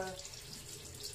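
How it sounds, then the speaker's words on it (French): Tap water runs into a sink while hands are rinsed, a brief, soft, steady splashing hiss heard close up. "je suis en train de me rincer les mains"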